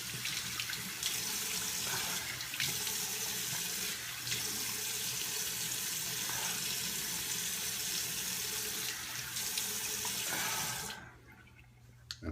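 Cold water pouring from a bathroom tap for rinsing after a shave, a steady hissing stream for about eleven seconds before shutting off, leaving near silence with a small clink at the end.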